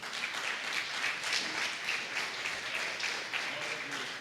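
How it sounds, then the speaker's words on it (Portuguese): A church congregation applauds at an evening service, a steady, moderately distant wash of many hands clapping that continues evenly throughout, with a voice faintly present. "Vamos aplaudir o nome do Senhor."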